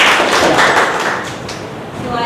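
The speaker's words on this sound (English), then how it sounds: "Let's have a round of applause." Brief applause from the audience at a Toastmasters-style table topics meeting: a dense burst of clapping that fades slightly over about two seconds, close and fairly loud.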